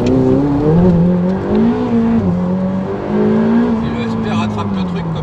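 A 2018 Ferrari 488 Pista engine pulls hard and close, its tone climbing and dipping as the automatic gearbox shifts on its own, with someone talking over the loud drone.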